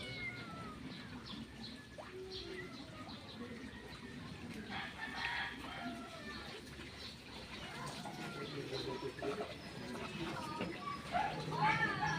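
Chickens cluck and squawk in a busy yard, with a rooster crowing briefly amid steady background noise and faint distant voices.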